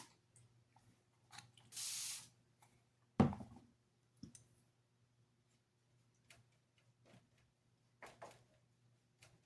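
One short hissing burst of a spray bottle spraying water, surrounded by scattered clicks and a thud in an otherwise quiet room.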